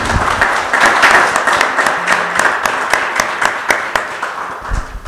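A church congregation at a wedding applauds warmly for several seconds to welcome the couple, the dense clapping slowly thinning toward the end.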